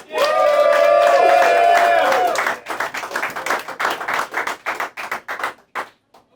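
A comedy club crowd welcomes Chris Hopkins with a loud cheer and whoops, then breaks into rapid, dense applause that thins into scattered claps.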